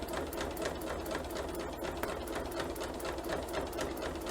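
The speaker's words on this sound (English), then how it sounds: "So bring it to the sewing machine" A sewing machine runs steadily at close range, its rapid rhythmic stitching whir continuing without a break.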